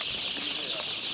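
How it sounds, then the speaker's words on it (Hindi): Two-day-old chicks peep faintly inside a vehicle on the Srinagar-Jammu Highway, a few brief chirps barely rising above a steady hiss of background noise. "हमारी गाड़ी में चिक्स है, मुर्गी का छोटा छोटा बच्चा है, 2 दिन का है सिर्फ ये बच्चा।"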